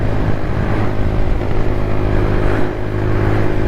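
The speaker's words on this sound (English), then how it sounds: "It just gave a splutter there where it obviously wasn't getting enough fuel." Lexmoto Tempest motorcycle running at a steady cruise around 50 mph, the engine drone loud and continuous with a slight dip near the end as it splutters from fuel starvation.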